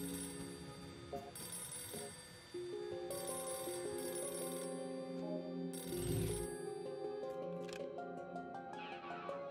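In the video game Narita Boy, a telephone keeps ringing in steady repeated electronic trills. The ringing sits over a layered synth music backdrop, with a low thump in the middle.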